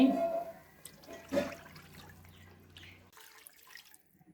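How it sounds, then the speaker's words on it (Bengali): Water is poured into a pan of spicy tengra fish curry cooked with nigella seeds. It makes a steady splashing stream for about three seconds before stopping abruptly, and a few soft kitchen clatters follow. "এখন আমি পানি দিচ্ছি।"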